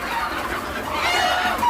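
Many free-roaming country chickens on a farm, overlapping soft clucks and murmuring calls close by, continuous and fairly loud with no talk.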